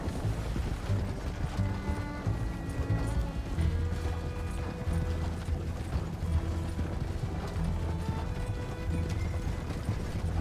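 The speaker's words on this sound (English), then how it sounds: "Horses now." Horse hooves clip-clop steadily in the video game Red Dead Redemption 2, a continuous dense clatter mixed with creaking, rattling tack and mechanical noise, with no one speaking.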